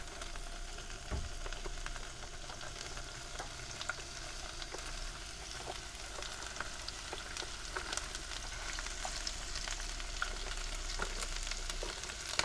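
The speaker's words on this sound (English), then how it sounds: "I'm going to let these get good and sauteed in here" Onions and peppers sauté in a pan for chicken fajitas cooked in a van, giving a soft, steady sizzle with scattered small crackles and occasional stirring, with no one talking.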